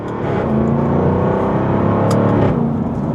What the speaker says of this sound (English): You can hear that V8 like a freaking machine gun